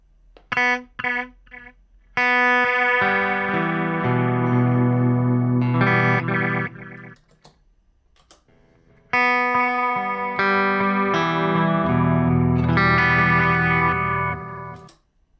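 Electric guitar played through Strymon Timeline and Meris LVX delay pedals: a few short plucked notes, then long sustained modulated chords ringing out with echoing repeats, pausing, then another swelling passage that fades away.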